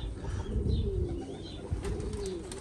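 Pigeons coo outdoors in low, murmuring calls that rise and fall over a steady background hum, with no voices.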